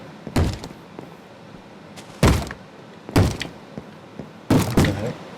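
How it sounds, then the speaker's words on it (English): Heavy thuds pound on a door in the Minecraft video game, four loud separate knocks at irregular intervals, some struck as quick doubles, over a faint background hum. "Oh gosh, someone's banging down the door."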